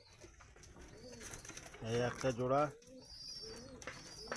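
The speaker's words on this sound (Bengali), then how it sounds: "এটা ছেলে পায়রা ম্যাড্রাস।" A male Madras pigeon coos in a short, low burbling phrase from a breeding loft, with someone talking over and around it.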